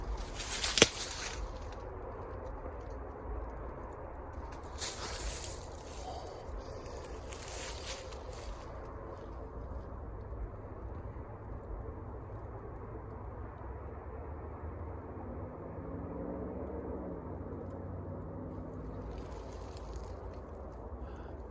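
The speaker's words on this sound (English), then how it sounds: "All these cars coming on this highway, man. That's all you can hear right now." Traffic hums steadily from a distant highway at dusk, a low continuous rumble of passing cars with a few brief louder swells and a faint knock near the start.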